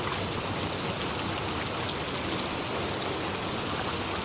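Heavy rain falls at night in a dense, continuous hiss of drops that stays steady and loud throughout, with no voices.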